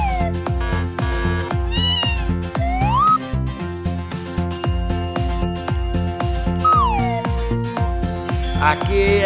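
Cartoon cat meows woven into a bouncy Spanish-language children's song, with sliding, rising-and-falling meow glides repeating over steady bass and percussion.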